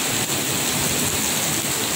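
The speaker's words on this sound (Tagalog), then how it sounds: "Sobrang lakas ng ulan guys" Heavy rain pours down in a dense, even hiss that stays loud and unbroken throughout, with no talking.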